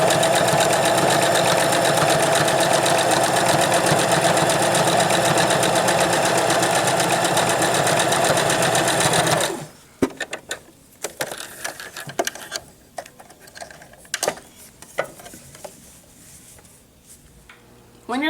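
A sewing machine runs steadily at close range as a duck pillow piece is stitched straight across along the 3/8 line, a continuous loud whir for about nine seconds, then stopping and leaving scattered small clicks and handling noises.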